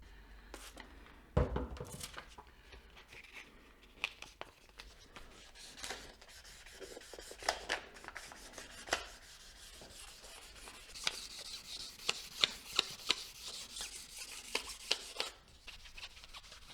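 Fine 2000-grit sandpaper rubbed by hand over a Harley Ultra Classic motorcycle brake caliper, a quiet close scratchy rasp in uneven strokes with small knocks and clicks, louder toward the end.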